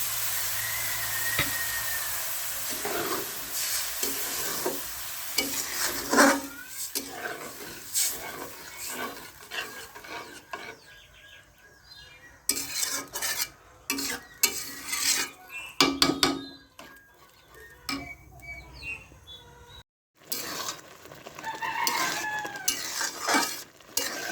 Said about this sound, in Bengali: এখানে পেঁয়াজ রসুন ভেজে চাউল দিয়ে দিয়েছি চাউল দিয়ে এখন কুটটা ভেজে নিচ্ছি